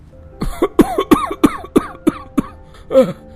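A burst of several harsh coughs in quick succession, close and fairly loud, followed by a short pause and one more throaty cough.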